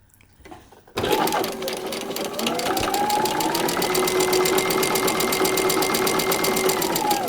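A sewing machine stitches a paper-pieced quilt block, starting after a second of near silence and then running as a steady, close mechanical whir with a rapid needle rhythm until the end.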